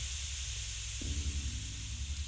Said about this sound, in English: After a few moments, a burst of steam hisses out just as they're passing.